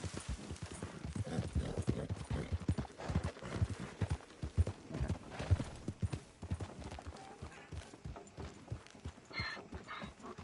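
Rhythmic clip-clop of horse hooves in Red Dead Redemption 2, steady and fairly loud, with a brief high whinny-like tone near the end.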